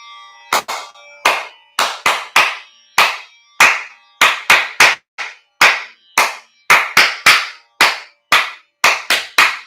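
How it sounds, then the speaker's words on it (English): Hard hand clapping at a yoga class: about twenty sharp, close claps in an uneven, brisk rhythm, sometimes doubled, with no talking. "So let's clap."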